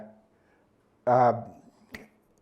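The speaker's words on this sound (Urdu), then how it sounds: "جب یوں ایک چٹکی بجائی جاتی ہے" A single sharp finger snap rings out alone just after a brief vocal sound, used to signal the start of a race between a tortoise and a hare.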